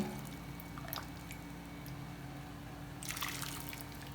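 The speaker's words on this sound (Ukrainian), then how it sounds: "буквально киплячим маринадом заливаю капусту" Boiling marinade of oil and vinegar is poured over cabbage for pickled cabbage, giving a faint steady liquid pour with a few soft drips, then a louder splashing burst near the end over a low background hum.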